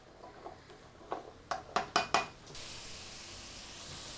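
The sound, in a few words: sauteing vegetables in a pan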